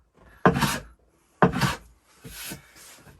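A hand tool takes shavings off a cupped, warped wooden board in two strong rasping strokes followed by two softer, longer passes, close up and with no talking.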